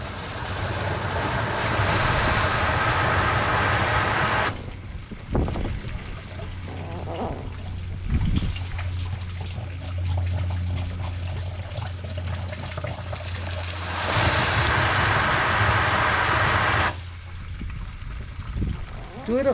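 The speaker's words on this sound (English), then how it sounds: "you're going to be pumping air and water in this system" Air and water blast through the radiator system of a 2002 Toyota Highlander during a flush, a loud continuous hissing gush that cuts off, leaves a quieter stretch of low trickling and rumble, then surges again briefly.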